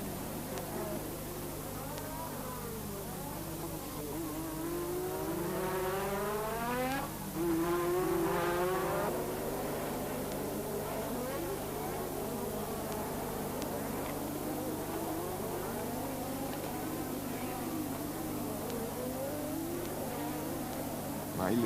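1986 Formula 1 turbo race cars sweep past, faint and distant, with rising and falling engine whines during a couple of quick passes over a steady background hum.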